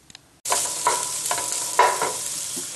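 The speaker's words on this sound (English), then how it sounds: "Okay, so onions sweated. Now we're gonna cook a couple more minutes." Onions and bell pepper sweating in a pan for eggplant moussaka start sizzling abruptly after a moment of quiet, a steady close hiss with several louder stirring scrapes.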